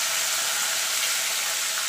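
Diced potato pieces fry with whole cumin seeds in hot oil, giving a steady, even sizzle that holds without pause and with no one speaking.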